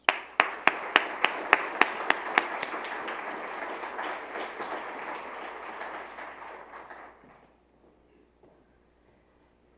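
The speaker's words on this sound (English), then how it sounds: "Please give her a round of applause," Audience at an evening talk on urban life and climate change applauds as a speaker is welcomed. A few sharp nearby claps lead into a full, even wash of applause that holds for several seconds and then tapers off into quiet.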